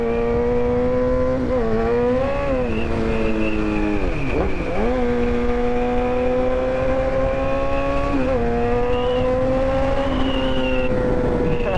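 A BMW S1000RR sport motorcycle engine revs while riding, a loud, continuous, high-pitched whine that rises and dips with throttle changes through the whole stretch, close to the rider.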